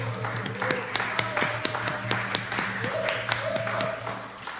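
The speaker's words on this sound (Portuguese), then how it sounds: "Aplausos aqui, vamos aplaudir." An audience at a live choro music show in Manaus claps, with scattered, moderately quiet applause and distinct individual claps under a faint tonal background.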